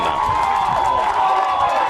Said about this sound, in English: A little bit of action has the Quebec crowd boogie-woogieing